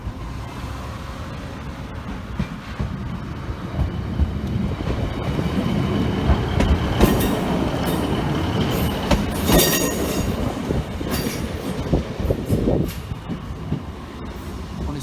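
A Class 153 diesel unit, 153383, rumbles past the Sleaford East level crossing, growing loud and close with clattering wheels and brief squeals as it passes, then easing off.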